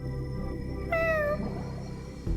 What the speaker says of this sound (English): It even meows.